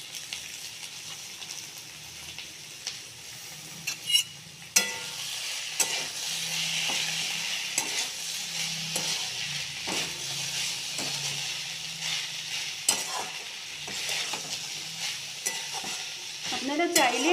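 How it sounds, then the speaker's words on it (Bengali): Raisins tossed and stirred in hot mustard oil in a pan, a steady close sizzle with repeated scraping stirs of the spoon throughout, no talking. "একটু ভাজা ভাজা করতে হবে অল্প।"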